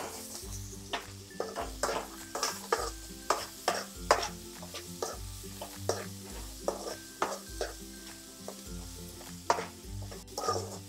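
Sliced onions sizzle in a pan for an egg masala curry while a spoon stirs them in repeated scraping strokes, a soft steady frying hiss under rhythmic clinks against the pan.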